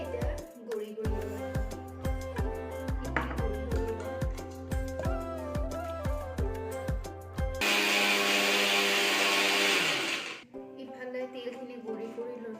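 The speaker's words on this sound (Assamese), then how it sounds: "আৰু তিলখিনি ভাজি থৈ আছিল এতিয়া গুড়ি কৰি ল'ব" A mixer grinder whirs loudly and steadily as it powders dry-roasted sesame seeds for a pork dish, the burst running about three seconds before cutting off, with background music playing throughout.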